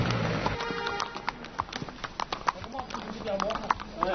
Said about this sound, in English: I know it might seem like a cop-out to ride a horse all the way up to base camp